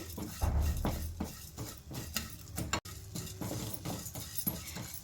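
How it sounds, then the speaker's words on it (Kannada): Carom seeds and fenugreek roasting over a low flame in a pan, with repeated clinks and scrapes of a metal spoon stirring against the vessel at close range. "ಸಣ್ಣ ಉರಿ ಇಟ್ಕೊಂಡು ಇದೊಂಚೂರು ಹುರಿದ್ಕೊಳ್ಳಿ"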